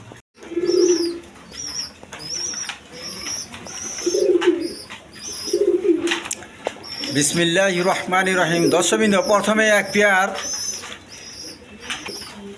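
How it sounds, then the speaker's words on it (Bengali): Red Jacobin pigeons give several low, separate coos at first, then chirping and fluttering calls build up while someone talks over them. "রেড কালার মধ্যে জ্যাকোবিন কবুতর দিয়ে শুরু করতেছি"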